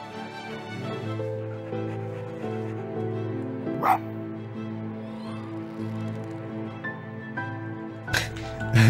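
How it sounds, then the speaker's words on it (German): The spirit creature in the game Spirit of the North gives small-dog-like whimpers and yips over sustained droning music tones, with a louder burst near the end. "Der Geist klingt immer wie so ein kleiner Hund"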